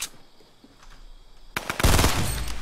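Gunfire in Fortnite: a few scattered shots at first, then a dense, loud burst of rapid automatic fire close by.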